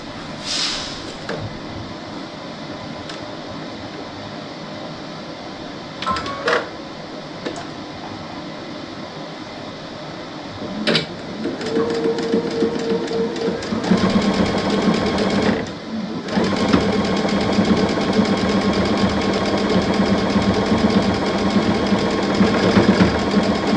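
A sewing machine re-stitches the seam of a fabric hair towel, starting with short bursts and pauses, then running in a steady, loud, continuous whir through the second half.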